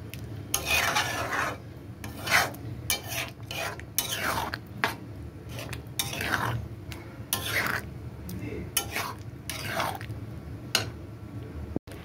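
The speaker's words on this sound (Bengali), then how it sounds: "এই এটাকে এখন মাঝে মাঝে একটু নাড়তে হবে, না হলে নিচে লেগে যাবে।" Egg tadka curry being stirred in a pan, a series of irregular scraping and rubbing strokes of a spoon against the metal, close and fairly loud, with faint sizzling between strokes.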